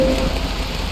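Light rain drizzles in the Until Then video game, a soft even patter heard alone for just under a second.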